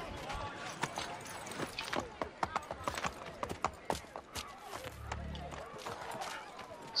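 Horse hooves in Assassin's Creed III clip-clop in an irregular run of sharp knocks, fairly close, with a brief low rumble partway through and steady background noise.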